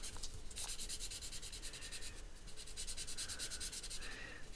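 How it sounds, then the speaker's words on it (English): Graphite shading being smoothed with the side of a paper tortillon, a soft, close, continuous rubbing and scratching of a stump dragged across paper, quiet and steady with no voices. "Smoothing them out using the side of my tortillon"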